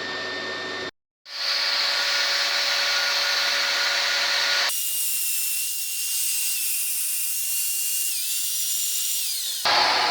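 A rotary tool grinds the cylinder head surface of a Mitsubishi Pajero 4D56 engine, prepped ahead of TIG welding a crack. A loud, steady high-pitched whine runs close and continuous, briefly stopping near the start and shifting in tone partway through.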